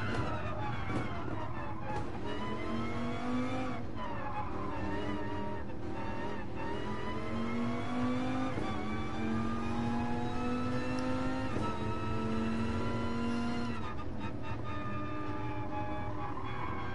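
A car driving in a video game with the steady hum of its engine and a rising, wavering whine held through the run. The sound is continuous and fairly loud, with no talk.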